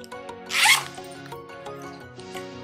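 A zipper case from a backpack is unzipped in one quick, close rasping pull, heard over a soft continuous musical background.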